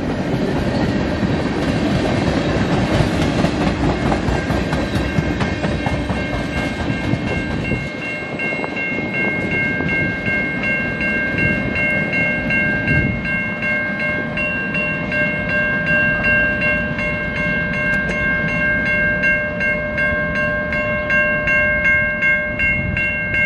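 A CN freight train rolls past nearby in Battle Creek, Michigan, for a long stretch, with rhythmic wheel clatter and tonal squealing or horn-like tones layered over the rumble.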